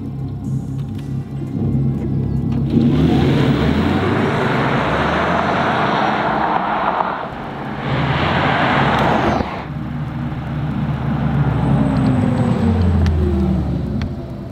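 An Audi e-tron electric car accelerates with a rising, futuristic whine over road and tyre noise, heard steadily from inside the cabin, briefly dipping and then building again.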